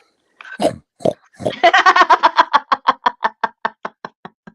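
A person imitates a pig, snorting and grunting a few times, then a rapid series of rhythmic oinks that gradually fade and slow.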